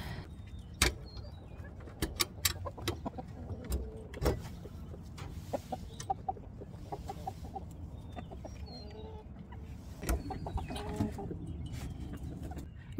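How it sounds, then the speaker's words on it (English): Ayam Cemani chickens cluck softly inside a small coop, scattered short clucks and calls coming steadily at close range over a low background hum, with no talking. "This little coop has our AM Somani chickens, and they have started laying."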